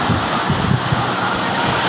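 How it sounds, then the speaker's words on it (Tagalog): Big ocean waves surge and churn in a steady, loud wash of surf mixed with wind buffeting the microphone, with no clear talk. "Lalaki kasi ng alon."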